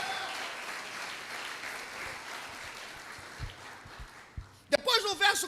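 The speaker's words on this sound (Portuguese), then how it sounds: "Quem crê nisso, dá uma salva de palmas" A church congregation breaks into applause, a broad wash of clapping that holds steadily and then thins out, ending in a few louder, closer bursts and voices near the end.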